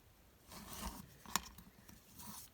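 Something is being trimmed for a Halloween craft, giving quiet scraping, rasping cuts in short strokes with one sharp snip in the middle, all fairly faint and close.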